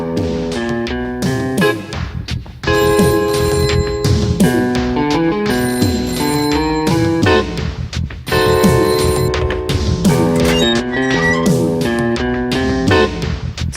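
A telephone rings in a police station scene in a Malayalam film, with repeated electronic ringing bursts in a steady pattern, loud and prominent over underlying music.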